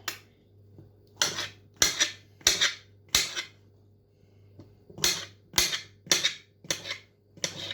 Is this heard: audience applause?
no